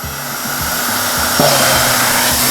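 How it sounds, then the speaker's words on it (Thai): A strong electric fan runs at high speed, a loud steady whooshing roar with a low rumbling undertone, alone and close, with no voices. "นี่คือพัดลมแรงไหมจ๊ะ"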